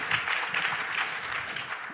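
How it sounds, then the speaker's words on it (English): Brief round of audience applause welcoming two guests at a talk on customer experiences, dense and steady clapping that holds at an even level for a couple of seconds. "ladies and gentlemen, a quick round of applause for Izzy and Virginia,"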